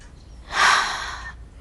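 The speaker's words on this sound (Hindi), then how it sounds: "वो बहुत खांस रही है।" A woman with flu lets out a single harsh, breathy cough burst, loud and close, lasting under a second in an otherwise quiet room.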